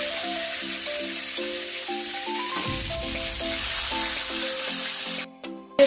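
Mutton pieces hit hot oil in a pot and sizzle steadily and loudly up close, a continuous frying hiss with stirring clatter and a faint background melody, ending in a sharp clank.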